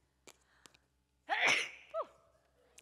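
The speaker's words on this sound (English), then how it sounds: "I'm going to sneeze" A single loud, close sneeze bursts out after a few quiet breaths, followed by a brief voiced exhale.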